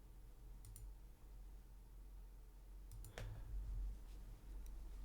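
A few faint computer mouse clicks, spaced out, against a steady low hum at close range.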